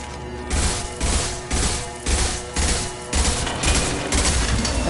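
Heavy weapon fire in Mass Effect Legendary Edition, loud repeated bursts of gunfire in a rhythmic pattern of roughly one-second volleys, close and dominant with no talk over it.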